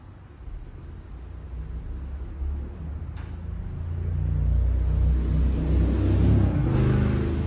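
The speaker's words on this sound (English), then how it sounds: "let this car down and see if it starts" A car engine turns over and catches after a damaged connector with a bent terminal is repaired, a steady low rumble that swells louder and settles into a running idle close by.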